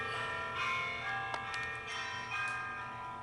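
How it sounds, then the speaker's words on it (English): Bell struck inside a clock tower in a children's animated railway story, ringing tones with bright sustained harmonics and several strikes fading and overlapping, clear and fairly close. "As soon as the bell was put inside the clock tower, it rang and it sounded magnificent."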